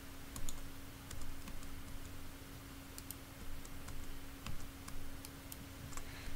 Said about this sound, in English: sorry for clicking